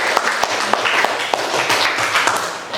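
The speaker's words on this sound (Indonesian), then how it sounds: "Kita berikan aplaus buat teman kita." A classroom audience clapping for a classmate after a presentation, a brief burst of scattered applause with a few sharper claps standing out.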